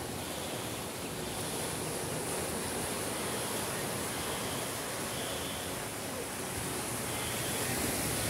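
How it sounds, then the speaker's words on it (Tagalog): Strong ocean waves at La Jolla Cove in San Diego, California, make a steady, loud roar of surf with faint wind noise and no clear breaks. "Medyo malakas ang alon."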